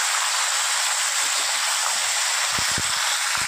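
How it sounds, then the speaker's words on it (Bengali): Fish head chachra with vegetables frying in a pan: a loud, close, unbroken hissing sizzle with a few soft knocks of stirring near the end, and no voices. "চলুন এবার এটা খুব ভালো করে ভেজে নিই"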